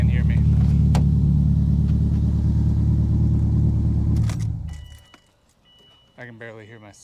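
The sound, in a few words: car engine running then switched off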